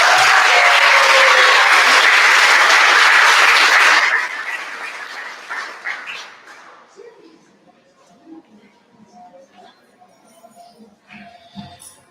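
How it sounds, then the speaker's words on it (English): Audience at an 8th grade graduation claps loudly for around four seconds before the applause quickly tapers off into a few scattered claps and quiet room noise. "Let's give another round of applause."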